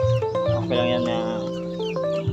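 Young roosters (stags) and chickens clucking close by in a backyard flock, with steady overlapping calls and a few rising squawks over a busy background.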